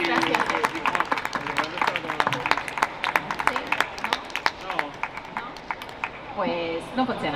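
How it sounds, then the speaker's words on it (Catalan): An audience claps steadily at a lively Catalan stage show, with sharp, distinct handclaps running throughout at moderate volume and voices talking and calling over them. "Un fort aplaudiment, sisplau."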